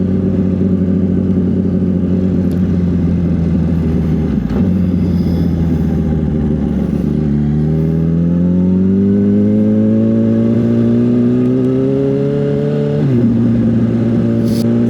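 A motorcycle engine runs steadily close by, its pitch dipping and then climbing smoothly as the bike accelerates through a gear, with a brief drop near the end before it pulls again. No one speaks.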